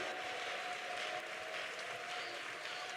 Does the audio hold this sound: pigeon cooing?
no